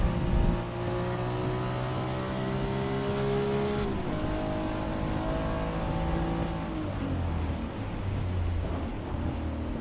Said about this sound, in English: way too soon to downshift